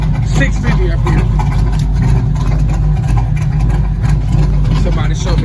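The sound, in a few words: car engine running, Edelbrock 650 carburetor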